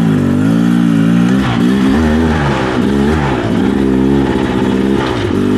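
An enduro motorcycle with low 1250 gearing climbs in second gear, its engine loud and close, pitch rising and dipping repeatedly as the throttle is worked on the ascent.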